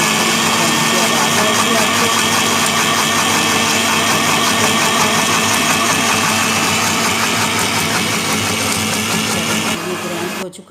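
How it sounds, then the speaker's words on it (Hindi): Onion and garlic whirring in an electric grinder for beef nihari, a loud steady motor drone running nearly the whole time before cutting off at the end. "ये देखिए ग्राइंड कर रहे हैं"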